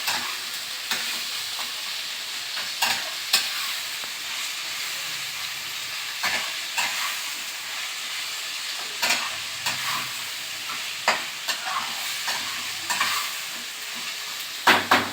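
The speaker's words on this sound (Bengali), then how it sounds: "যতক্ষণ না তেলটা ছাড়বে ততক্ষণ কন্টিনিউ নেড়ে যেতে হবে" Paneer and potato curry frying in oil, stirred continuously, with a bright steady sizzle broken by repeated scraping strokes of a spoon against the pan.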